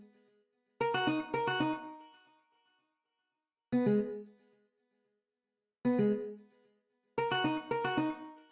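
A guitar melody in an Afrobeat/Afro-pop production plays in four short plucked phrases, the first and last doubled, with silent gaps between them. Each bright note rings out clearly and fades.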